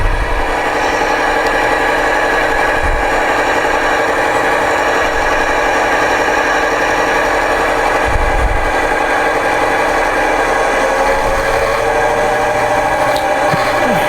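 Steady electric motor hum and buzzing vibration from a model Deltic locomotive running in a model railway shed, continuous and close with a faint rising whine near the end.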